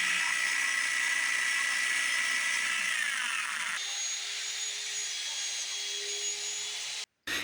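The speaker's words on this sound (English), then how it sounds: "proceed to cut my curve with the jigsaw" A jigsaw cuts a curve through a wooden picket board, giving a loud, continuous high-pitched buzzing whine that shifts pitch partway through and stops abruptly near the end before briefly resuming.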